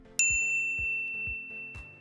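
A bright notification bell dings once, crisp and ringing, its tone sustaining and slowly fading over a soft repeating low thump in the background.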